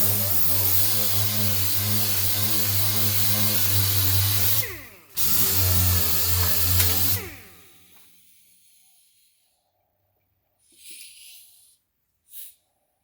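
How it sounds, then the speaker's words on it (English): A power sander works a body panel on a 1969 B-body car, whirring loudly and steadily, cutting out briefly, running again, then winding down into near silence with a couple of faint knocks. "we're going to put the pressure here on the sander, not down here, because we don't want to round it"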